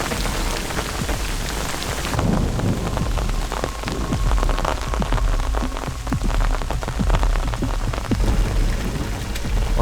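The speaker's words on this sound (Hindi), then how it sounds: "ओले गिर रहे हैं।" Hail pelts down during a storm on a Himalayan mountain trek, a dense, loud, continuous patter of stones on surfaces with low rumbles underneath.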